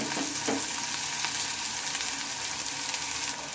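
Chopped onion frying in a pan for achari aloo dum, a close, steady sizzle with stirring scrapes and faint crackles, moderately loud throughout.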